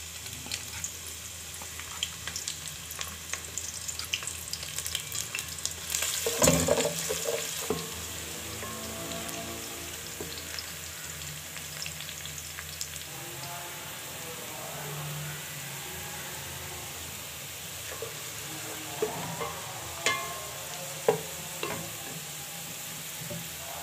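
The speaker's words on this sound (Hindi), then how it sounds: "प्याज हल्के से फ्राई हो गए" Chopped onions hitting hot cooking oil on a stovetop for chicken white pulao give a steady, close crackling sizzle with occasional stirring clatter and louder bursts, running throughout with no voices.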